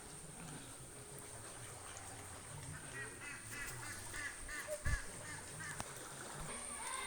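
Ducks quack in a short series of calls beside a river in rural Bangladesh. The calls are faint and somewhat distant over a low outdoor background, with a brief thump partway through.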